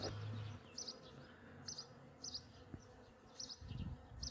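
Honeybee scout bees buzz around a house where a first swarm is expected, a soft low drone with intermittent higher whines of individual bees passing close, fairly faint and steady throughout.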